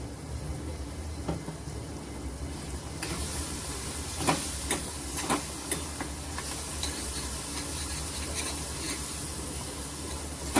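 Garlic chutney sautéing in oil over a low gas flame gives a steady soft sizzle with occasional ticks and stirring scrapes, fairly quiet and close, with no talking.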